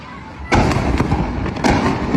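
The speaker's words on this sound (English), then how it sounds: "So you're seeing 2 bombs." Bombs exploding during a military bombing strike, heard as a sudden loud blast followed by a rumbling roll and a second heavy burst, all with no voices.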